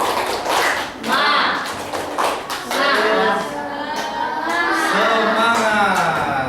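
A class of students does a rhythmic spirit clap in a classroom, a sharp burst of claps at the start followed by quick tapping claps, with voices chanting and talking over it.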